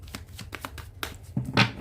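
A deck of tarot cards being shuffled by hand, a quick series of soft riffling flicks and taps close up, ending in a louder final burst, no talk.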